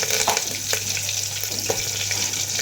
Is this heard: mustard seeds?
yes